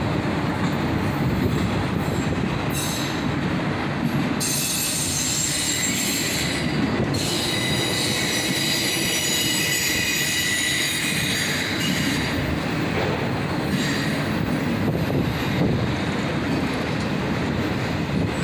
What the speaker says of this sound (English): This train quickly shifted from intermodal containers to auto racks.